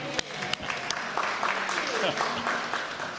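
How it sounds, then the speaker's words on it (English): A small audience at a museum speaker talk gives a round of applause, scattered claps with a few sharp hand hits near the start, softly mixed with faint voices. "Let's give her a round of applause, everybody."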